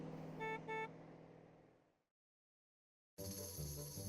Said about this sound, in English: They were all singing happily as the car trundled along.